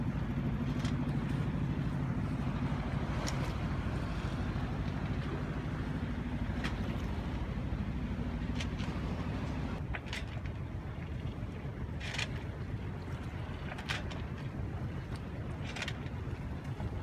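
A boat motors across the Little Harbor anchorage at Catalina Island, a steady low engine drone with water and wind noise that continues throughout, the motor tone dropping partway through as occasional faint clatters come and go.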